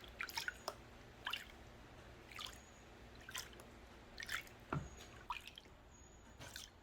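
Water sloshing and dripping in a gold pan while paydirt is panned indoors, with soft intermittent splashes and drips at a gentle, uneven rhythm, close but quiet.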